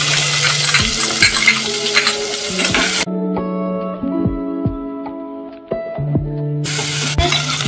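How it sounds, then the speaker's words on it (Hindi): Onions and green chillies fry in a pan with a loud, crackling sizzle, interrupted by scraping stirring strokes and a few seconds where the frying drops out before returning. "प्याज को अच्छे से भूनिए।"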